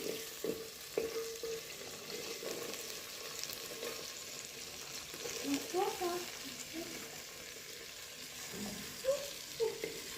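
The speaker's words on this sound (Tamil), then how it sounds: "நல்லா வதக்கிக்கலாம்" Vegetables sizzle and crackle steadily in a hot pan while being sautéed for a village-style kootanchoru mixed rice dish, with occasional stirring scrapes and soft clinks over a continuous frying hiss.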